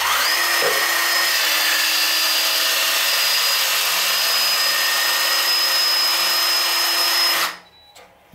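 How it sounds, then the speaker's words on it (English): A HYTORC torque gun loosens a nut fitted with an insulating kit and HYTORC washer, a steady, loud, close mechanical whir with a high tonal whine that runs for about seven seconds and then stops abruptly. "To loosen it up, we'll just put the gun into loosen mode"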